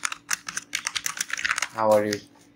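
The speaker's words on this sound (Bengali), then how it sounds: "নোটপ্যাডে ঢোকার পর হ্যালো হাউ আর ইউ লিখছি" Quick clattering keystrokes on a computer keyboard as text goes into Notepad, a rapid close run of taps, followed briefly by a voice.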